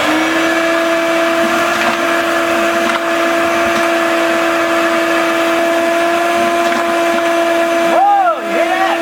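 A vacuum cleaner runs close by with a loud, steady motor whine holding one pitch throughout, briefly bending in pitch near the end, while people talk over it.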